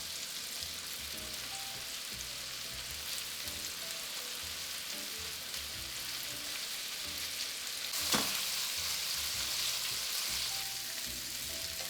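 Swedish meatballs brown in a hot pan, a quiet, steady sizzle and crackle running throughout, with one brief clink or stir near the end and no voices.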